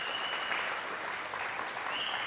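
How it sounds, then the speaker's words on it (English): A church congregation at a Sunday service claps together, a dense, even wash of applause held for a couple of seconds with no voices standing out. "Yes, give her a round of applause."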